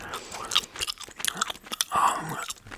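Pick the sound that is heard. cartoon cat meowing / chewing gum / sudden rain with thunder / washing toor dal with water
chewing gum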